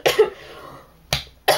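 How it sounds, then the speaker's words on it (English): Three sharp coughs, one long burst at the start followed by two short ones after a pause, close and fairly loud with no talking. "Yeah, cough attack there"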